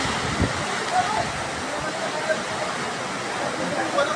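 A steady, loud rush of water from an overflowing river in flood, a continuous broadband roar with no breaks.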